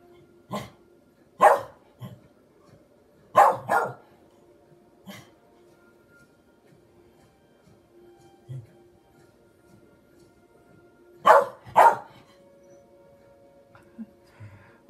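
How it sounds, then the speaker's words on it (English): A dog barks indoors in short bursts of two or three sharp barks, spread across the stretch, against a faint background hum. "And I'm really, really sorry about my dog barking."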